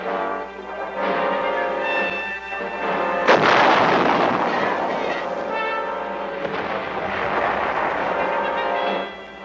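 Artillery pieces fire during training at an artillery school outside Tainan, Taiwan, in 1950s–60s footage: a heavy booming blast rolls out over sustained rumbling noise, loud and echoing.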